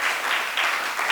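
A crowd at a worship production release event applauds and cheers in a dense, continuous burst, close and fairly loud.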